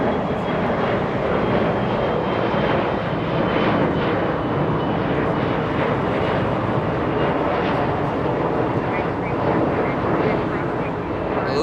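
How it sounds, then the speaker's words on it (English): A SkyWest Embraer E175 jet at Los Angeles International Airport gives off a loud, continuous broadband engine roar that holds steady throughout. "Little Sky West, 6262, heading to El Paso, Texas. A little Embraer E175."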